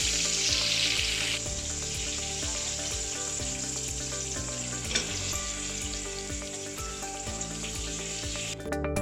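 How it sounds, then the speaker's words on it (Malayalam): Seasoned chicken pieces for homemade KFC-style fried chicken deep frying in hot oil, a loud, continuous bubbling sizzle with light crackles and occasional soft clinks from turning the pieces. "അടുത്ത സൈഡും കൂടി നന്നായിട്ടൊന്ന് ഫ്രൈ ചെയ്തെടുക്കാം"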